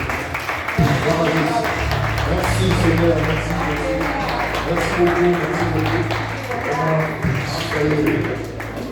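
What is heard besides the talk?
church congregation applauding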